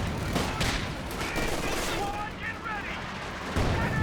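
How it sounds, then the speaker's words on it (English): Machine gun and other gunfire in a Company of Heroes 2 multiplayer match, a dense continuous rattle of shots and distant battle noise, with a commentator talking over it throughout. "This machine gun for the allies has just been camped in the middle the whole time"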